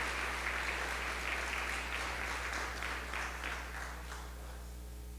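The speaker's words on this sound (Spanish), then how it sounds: "Denle un aplauso al Señor en esta noche, hermano." A church congregation at an evening service claps to honor the Lord, a steady, moderately distant wash of applause over a low electrical hum, gradually thinning toward the end.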